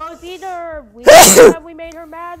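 A single loud sneeze bursts out between stretches of ongoing speech, sharp and close, with talking resuming right after.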